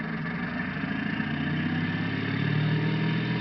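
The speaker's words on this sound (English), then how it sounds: "what you're hearing right now is the engine throttling up" An aircraft engine in a flight simulator game throttles up, a steady droning hum that rises slightly in pitch and loudness as it goes, with no talk.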